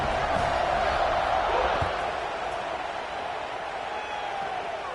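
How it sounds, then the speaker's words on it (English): Stadium crowd at a college football game between Texas Tech and Wisconsin buzzing after a touchdown, a broad, steady roar of many voices that eases slightly after two seconds and carries on at a distance. "this crowd is buzzing after that last score"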